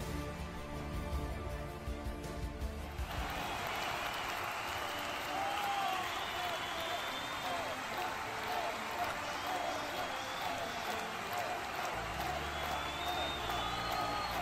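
A crowd cheers and applauds in a steady broadband roar, played as a sound effect on a Crusader Kings 2 stream. It swells in after a few seconds and holds loud to the end, with voices mixed in.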